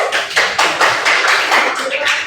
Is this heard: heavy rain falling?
no